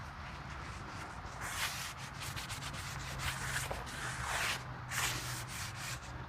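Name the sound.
scraping food residue on a Blackstone griddle toward the drain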